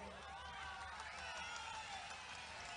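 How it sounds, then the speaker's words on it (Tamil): A crowd claps at a Makkal Needhi Maiam political speech by Kamal Haasan, a distant, faint, continuous wash of applause with the murmur of the audience mixed in throughout. "கைத்தட்டாதீங்க ரொம்ப"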